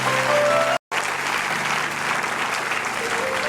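A church congregation applauds in a sustained, steady wash of clapping with a brief drop partway through, loud and without speech over it.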